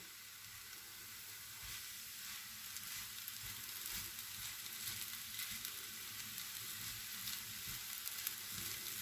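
Kadayif pastry fries in hot oil with a constant, fairly faint crackling sizzle and occasional small pops, steady across the whole stretch with no talking.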